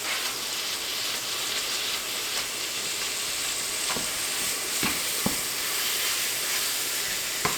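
Ground beef fries in a hot pan with soy sauce, giving a steady loud sizzle and hiss, broken by a few sharp clicks and scrapes as the meat is broken up.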